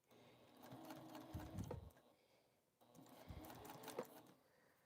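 A home sewing machine stitches a scant quarter-inch seam, guided by the edge of the presser foot, in two close, steady runs of whirring motor and needle with a brief pause between them.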